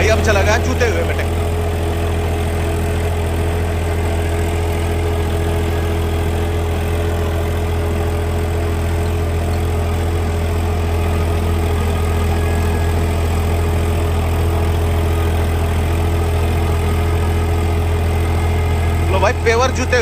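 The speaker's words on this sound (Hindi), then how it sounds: "तो भाई अब चला गया जूते हुए में ट्रैक्टर।" A tractor engine runs in low gear while hitched to a plough in a farm field, giving a heavy, steady diesel drone that holds the same even level throughout the twenty seconds.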